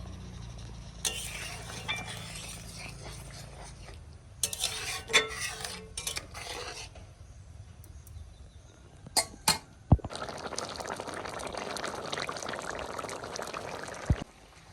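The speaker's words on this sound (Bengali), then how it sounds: "এই গরম জল দিয়ে দিই। বেশি জল দেবো না, মাখা মাখা হবে" Hot water poured into a pan of taro leaf dish during cooking, a steady broadband pour from about ten seconds onward after earlier clinks and stirring, fairly close and with no talk.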